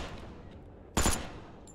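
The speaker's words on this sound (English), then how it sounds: "Never used the machine pistol, so we're gonna see how fast it shoots." Machine pistol in the video game Arcticide fires one short, loud burst of rapid shots after a quiet stretch, followed by a brief decaying tail.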